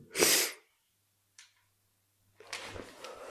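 In an abandoned building, a sharp, close snort is followed by a brief quiet sniff, then soft rustling and breathing noises after a pause.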